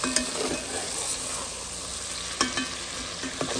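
Lamb masala sizzling loudly in a frying pot while the browned bottom is stirred and scraped to deglaze it: steady close crackling with a few sharp scrapes of the utensil, no speech.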